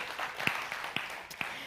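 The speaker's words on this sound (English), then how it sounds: "Yeah, you can applaud them." An audience applauds the Celebration Singers in a hall, a soft steady patter of clapping with a few sharper claps standing out.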